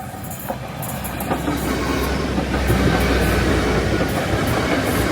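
An 800 series train running on diesel power passes close by, a loud, steady rumble and rush that builds and holds with faint clickety-clack of wheels on rail along reverse curves between Barton Hill and Malton.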